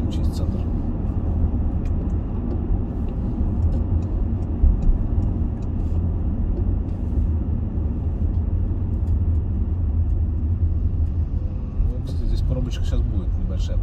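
A car drives through city traffic in Sochi, its engine and road noise forming a steady low rumble from inside the cabin, while a person talks over it throughout.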